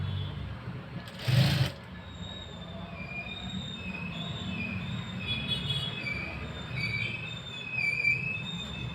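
A zigzag sewing machine stitches a saree fall with a continuous mechanical rattle and whir, one louder burst near the start, then steady close running with no speech.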